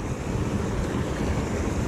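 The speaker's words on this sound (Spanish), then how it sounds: "Espero me puedan oír porque aquí hay un chorro de agua." A gushing stream of water at a river fishing spot roars steadily and loudly close to the microphone, a constant broadband rush with no breaks or voices.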